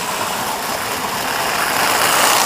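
A steady, loud mechanical whir of a small model train engine, freshly oiled, running continuously, even and close, with no voices.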